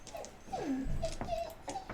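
A dog whimpers in a room during a tabletop role-playing game session: several thin, high, sliding whines and short yelps, fairly faint against a low background hum.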